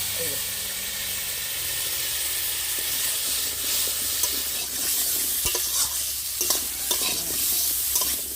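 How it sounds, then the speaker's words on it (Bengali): Potatoes sizzling and hissing in hot oil left from frying fish, with scraping stirring sounds and occasional clinks of a utensil against the pan, close by. "মাছ ভাজা তেলের মধ্যে দিয়ে দিচ্ছি"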